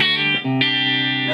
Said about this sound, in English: this is the sound of a clean channel on a solid state.